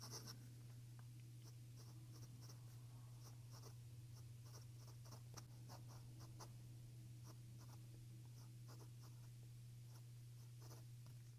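A Pilot Elite 95s compact fountain pen writing on Ayush paper, a quiet, close scratch of the nib in short strokes and ticks over a steady low hum.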